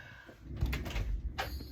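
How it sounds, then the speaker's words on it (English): Door being closed in a home crafting room, a short sliding rush followed by a couple of soft thuds and a final bump, close by with no talk. "let me just close my door"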